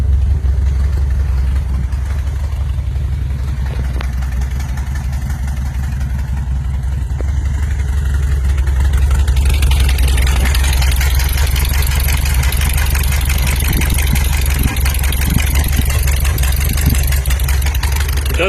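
A kit car engine idles warm rather than from a cold start: a loud, steady low rumble with light mechanical clatter running continuously throughout, with no voices.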